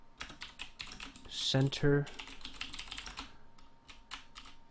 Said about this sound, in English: I'm accidentally banging it while I'm like typing